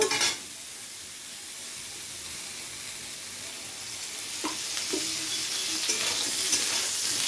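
Brinjal pieces fry in oil with a steady close sizzle and soft crackle, a short clatter at the start and a few spoon scrapes and knocks later as the pan is stirred; nobody speaks.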